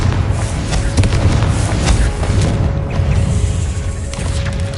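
A Confringo fire spell explodes in Hogwarts Legacy, a loud roaring blast that rumbles continuously over heavy low booms and crackling bursts, with no voices.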